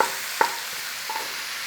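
Onion dropped into a hot stir-fry pan for a sticky chicken and cabbage dish, giving a steady close sizzle with a brief clatter of stirring near the start.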